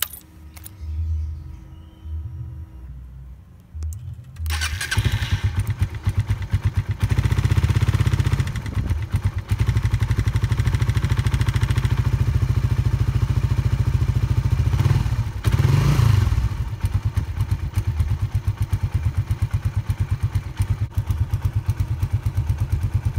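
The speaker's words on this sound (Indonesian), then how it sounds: "pokoknya ya gua nyalain dulu dan ini motor gua panasin dulu" A fuel-injected Suzuki Satria motorcycle starts after some clatter and idles loudly and close, warming up in a steady throaty drone with a brief rev in the middle.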